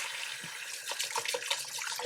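Warm tap water runs into a bowl holding soap for cleaning makeup brushes, a steady bright splashing stream with small bubbling bursts, close and continuous, no speech.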